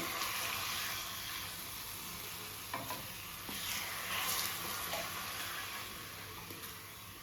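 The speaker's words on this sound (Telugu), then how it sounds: "ఇప్పుడు ఈ పోపు పులుసులో వేసేస్తున్నాను." A hot tempering with curry leaves is poured into onion pulusu, a tangy stew made with small onions. A soft, steady sizzle with stirring and a few faint clinks carries on quietly throughout.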